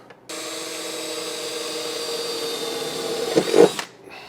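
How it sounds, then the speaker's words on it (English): A power drill bores a hole in a 1964 Triumph TR4, a steady close whine running for about three and a half seconds, then straining and rattling as the bit breaks through before stopping. "So now we have to drill a hole down there."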